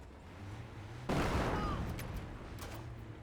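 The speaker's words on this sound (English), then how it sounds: "Right, come on, taking fire." Gunfire in the Company of Heroes strategy game, a sudden burst of rattling shots and booms that starts partway through, then distant pops and cracks trailing off under a low battle rumble.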